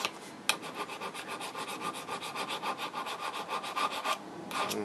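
Coarse file rasping along the edge of a garden tool being sharpened, a steady series of close, rhythmic scraping strokes about every fifth of a second, fairly quiet, with no talking.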